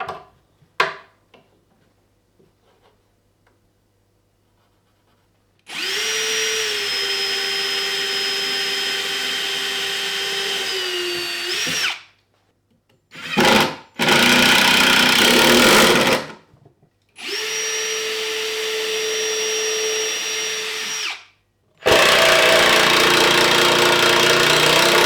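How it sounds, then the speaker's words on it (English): A power drill bores holes into a plywood shelf in three separate loud, steady bursts of whining motor noise, each lasting several seconds, with brief quiet pauses and a few short clicks between them. "So I'm just going to mark it in 3 spots and then drill some holes."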